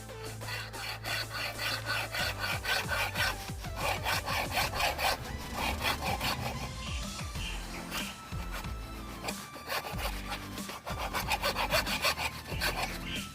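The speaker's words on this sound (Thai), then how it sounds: "โดยเราจะใช้เลื่อย มาเลื่อยตรงบริเวณที่เราจะต่อตะปูลงไปเลยครับ" A hand saw cuts back and forth through wood at the spot where a nail will be driven, giving loud, close, rhythmic rasping strokes that pause briefly midway, no talk.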